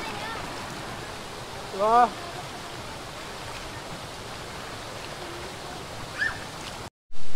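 Bahaw Falls, a waterfall in Pasacao, roars as steady broadband rushing water close by, with a brief voice calling out and a few short high whistles or calls over the constant noise.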